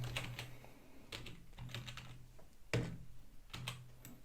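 Computer keyboard typing, with a burst of fast keystrokes followed by several short clusters of taps and brief pauses between them. The taps are close and fairly quiet, with no voices.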